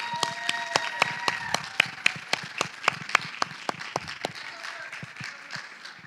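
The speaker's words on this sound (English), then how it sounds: "Give them a big round of applause." Audience applause greeting speakers at a talk, heard as a run of distinct, fairly quiet hand claps at a steady pace that thins out toward the end, with some murmuring underneath.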